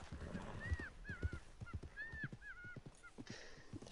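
A goose in a video game honks repeatedly, several short rising and falling calls in a loose series, faint and mixed with low thumps and background game noise.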